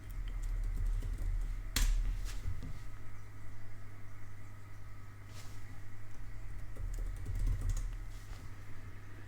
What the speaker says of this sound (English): this is where I need to type in my password